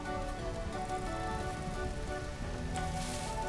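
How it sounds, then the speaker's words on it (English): Rain in the Vintage Story video game falls steadily on surfaces, a soft, even patter under a faint ambient musical drone, continuous and moderately quiet. "Rain. I hate rain."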